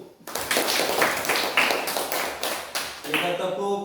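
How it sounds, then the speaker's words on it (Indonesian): A classroom applauds a student group, dense rapid clapping from many hands lasting a few seconds, loud and near, with a voice speaking over the start. "kita tepuk tangan untuk kelompok 1"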